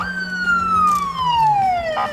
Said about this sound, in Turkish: Ne oluyor lan kardeşim arkadan sirenler falan öttürülüyor.